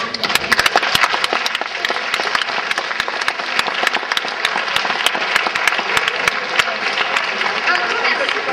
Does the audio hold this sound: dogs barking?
no